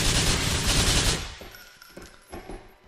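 Gunfire in GTA IV during a shootout, with a dense, loud fusillade that rattles continuously for about a second and then drops to scattered single shots fading into the distance.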